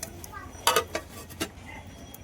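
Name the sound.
putting a lid on a cooking pot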